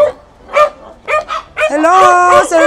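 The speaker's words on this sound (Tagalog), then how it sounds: "Maraming aso." Several dogs barking at a house, with short separated yips followed by a longer whining, howling bark, close and loud.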